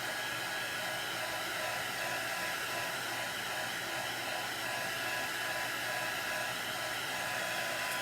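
Hair dryer drying chalk paint on pumpkins, a constant close, loud airy roar with a steady motor whine and no break throughout.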